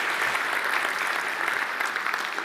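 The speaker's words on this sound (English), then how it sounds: "a big round of applause" An audience at the 2021 South Australia Australian of the Year Awards claps for the award nominees, a dense, even round of applause that holds steady from start to finish.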